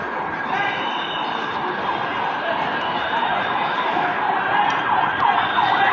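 An ambulance siren wails continuously at a moderate distance at a chemical warehouse and garment factory fire in Mirpur, Dhaka, its tones steady and sustained over a low background rumble.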